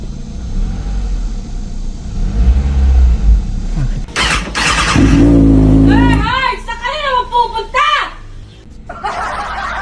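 A car engine revs up briefly with a low rising roar, mixed with people talking and chuckling nearby.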